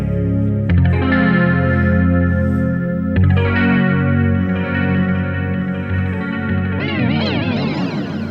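An electric guitar synth patch in Ableton Live, processed with delay and subtle fuzz, plays sustained chords and a wavering lead line, loud and unbroken with no voice.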